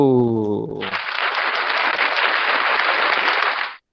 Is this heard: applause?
yes